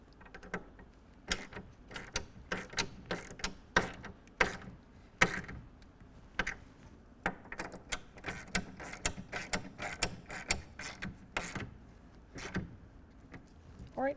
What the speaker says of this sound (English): And tighten it down with a 1/2 inch socket.